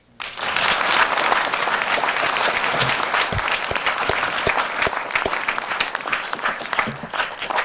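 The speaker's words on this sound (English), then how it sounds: "they both deserve a round of applause in my book" After a quiet start, an audience at a military retirement ceremony breaks into applause that quickly swells to a full, steady roar of many hands, with a few distinct sharp claps, then gradually thins near the end.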